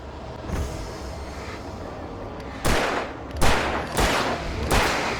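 Gunfire in the video game Alan Wake, several loud booming shots in quick succession over a dense rumbling game soundscape, near and heavy.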